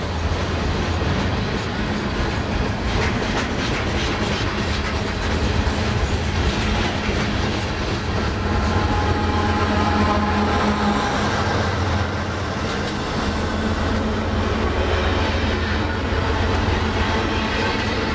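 A Norfolk Southern freight train on the Hagerstown District in the Shenandoah Valley rumbles past close by, a steady heavy roar with rhythmic clickety-clack of wheels on the rails throughout.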